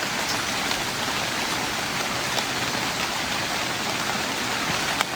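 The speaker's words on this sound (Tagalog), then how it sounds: "Gulat ako sa ulan." Steady rain falls outdoors near a convenience store, a dense, even hiss of drops on surfaces with no pauses or voices throughout.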